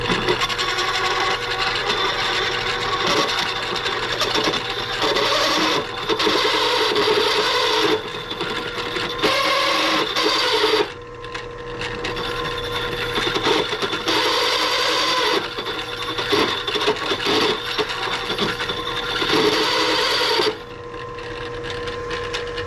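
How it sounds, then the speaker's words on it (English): A hand reamer is worked into the knurled end of a shaft from a frozen Cub Cadet ZForce bell housing, giving repeated scraping, rasping strokes in bursts with short pauses between them. "We'll give it one more ream before we lose a finger."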